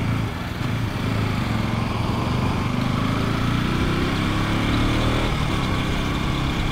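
A KTM RC 200 motorcycle engine drones steadily while riding on a plain road, a close, constant buzzing hum that rises slightly in pitch over several seconds before easing back.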